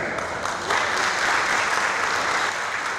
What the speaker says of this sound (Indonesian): Para hadirin beri tepuk tangan yang sangat meriah